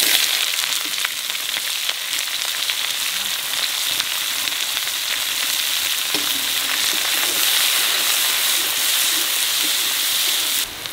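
Whole spices and three bay leaves sizzle steadily in hot oil in a wok, with a loud, unbroken frying hiss that holds through the whole clip and no talking.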